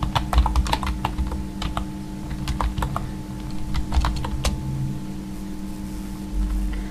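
Someone types a website address on a computer keyboard, the key presses coming in quick irregular bursts and then slowing, close and clear over a steady low hum.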